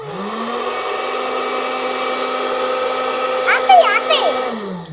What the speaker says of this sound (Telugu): స్విచ్ ఆన్ చేస్తే జుమ్ అని సౌండ్ చేస్తుంది. ఇది హెయిర్ డ్రైయర్ చేసినట్టు.